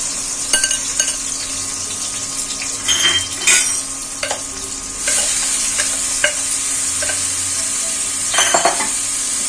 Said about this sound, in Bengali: পেঁপেটা একটু ভাজা ভাজা করে নেব।